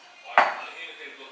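A mixing bowl for eggless sponge cupcake batter gets one sharp knock as it is set down or handled, a single close clatter that rings out briefly over quiet room tone.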